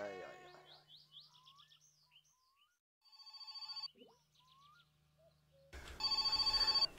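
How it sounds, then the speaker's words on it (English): An in-game telephone in My Summer Car rings in short electronic bursts amid chirping birds and quiet ambience, with a louder ring near the end. "it looks like we finally got that phone call from Drunk Guy"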